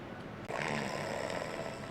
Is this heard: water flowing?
no